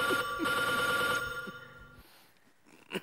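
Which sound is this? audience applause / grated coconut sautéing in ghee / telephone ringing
telephone ringing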